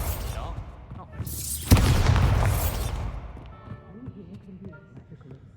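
The Bombarda spell bursts in Hogwarts Legacy with a loud, close boom, then a sweeping magical swell that fades into softer game ambience.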